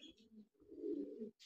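A pigeon coos close by in low, throaty warbling phrases, two short bursts followed by a longer rolling coo, with a faint chirp at the end.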